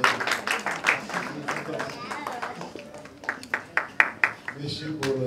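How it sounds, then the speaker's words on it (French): Scattered applause rises at an African artists' award ceremony, uneven individual claps and bursts of clapping mixed with voices and crowd noise, growing sharper and more distinct toward the end. "Applaudissements."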